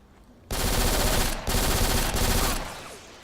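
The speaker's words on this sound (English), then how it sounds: "So here's the P90." P90 submachine gun fired in the shooter game Black, two long continuous loud bursts of rapid automatic fire with a brief break between them, close and dominant with no talk.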